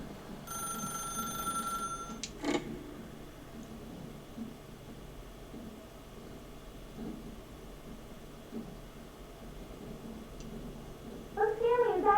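A telephone rings in the video game The Stanley Parable: one electronic ring burst near the start, then a low, quiet background with speech heard faintly.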